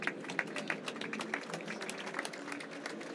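Soft, distant applause from an audience, a thin patter of scattered claps running steadily for a few seconds at low volume, with no clear voices above it.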